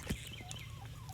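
Hens and roosters on a homestead flock of twenty-one chickens make brief, soft clucking calls, fairly faint against a steady outdoor background.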